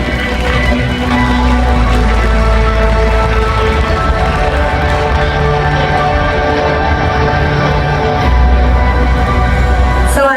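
Continuous crowd applause at a SYNNEX event launching the Nintendo Switch 2 in Thailand, welcoming the company chairwoman, a loud dense wash of clapping and crowd noise that runs throughout with a low rumble underneath.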